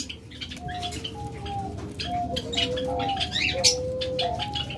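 An albino pigeon pair makes repeated soft, close cooing calls in overlapping tonal phrases against a light background hiss, with no speech.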